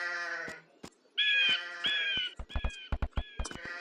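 Sheep bleat repeatedly in Age of Empires 2 HD, several nasal, wavering calls close up, followed by a run of short clicking taps, with no talk over them.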